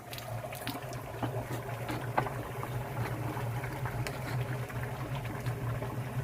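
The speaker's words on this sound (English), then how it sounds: "It'll basically just boil until the moisture cooks off, and there'll be basically like a paste left in there." A small batch of lime render mixture boils in a pot as its moisture cooks off, a quiet steady bubbling and hissing with a low hum underneath, close by and free of talk.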